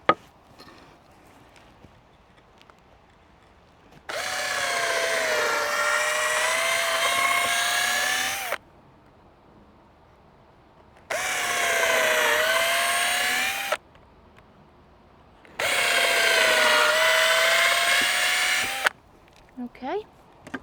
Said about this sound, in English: So let me just drill a couple of holes in that.